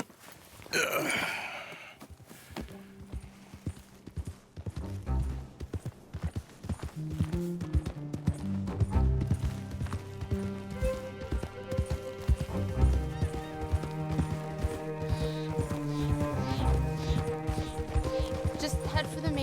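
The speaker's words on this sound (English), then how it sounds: "you okay to ride on my horse a little?" Steady clip-clop of horse hooves in Red Dead Redemption 2, a ridden horse walking at an even rhythm on a town street, close and clear, with a brief whinny near the start and a music score rising underneath.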